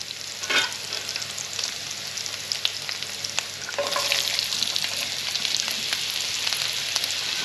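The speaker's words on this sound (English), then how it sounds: "So the first veggies I'm going to put in is the celery and the onions." Chopped celery and onions fry in a pan as the base for a chicken stew. The sizzle is soft and continuous, broken by occasional scrapes and stirring clicks, and grows a little louder partway through, with no voices.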